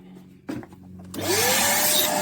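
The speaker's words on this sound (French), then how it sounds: "Un petit coup d'aspirateur." After knocks and handling of a drill, a vacuum cleaner whirs up to a steady, loud roar, picking up dust from holes drilled in wood for a homemade balloon-shooting stand.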